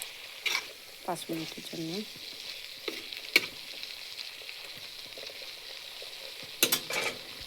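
Small-fish chochchori with coriander leaves is stirred in a pan, a faint sizzle broken by a few sharp spoon scrapes and clinks, while someone speaks briefly in the middle.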